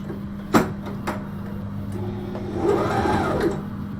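A sewing machine back stitching on a passport case: a steady mechanical whir with a few sharp clacks, then a rising and falling hum as the stitching reverses, close and clear.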